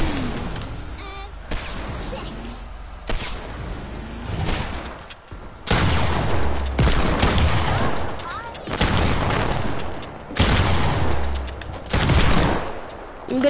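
Rapid bursts of gunfire from a multiplayer shooter game, including a hand cannon, crack in several loud volleys separated by short pauses, with heavy booming impacts in between.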